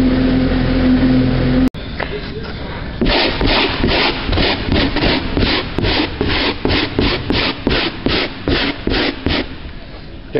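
Wire brush scraping a heavy layer off a surface, heard as a steady run of rhythmic back-and-forth rasping strokes, loud and close, after a brief abrupt cut near the start.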